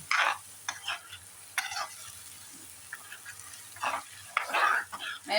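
Vegetables with garlic and ginger cook in a pot, with bursts of stirring and scraping against the pot over a low sizzle, loud and close with quiet gaps between.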